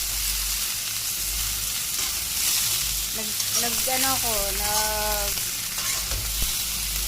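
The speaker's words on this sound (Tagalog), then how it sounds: "Natin to iprituhin ang hipon at pinagsama." Shrimp frying and sizzling in a pan with steady crackling hiss throughout, while a voice talks briefly over it in the middle.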